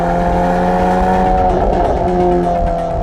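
A VW Golf 8 R sports car driving fast, its engine a loud, close, steady drone with strong harmonic tones that hold for about three seconds and shift slightly in pitch partway through.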